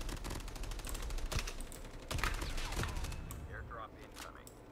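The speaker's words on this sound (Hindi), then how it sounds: "गोलियां वगैरह बहुत ही ज़बरदस्त चल रही है।" Rapid bursts of gunfire from the video game Call of Duty Mobile rattle through the scene, with dense volleys in the first half thinning toward the end, under a faint background of game sounds.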